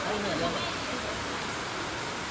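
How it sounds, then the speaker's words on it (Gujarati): Dense, steady hiss of heavy monsoon rain pouring down continuously at Saputara, with no breaks in the downpour. "અત્યારે આવે છે ધોધમાર વરસાદ"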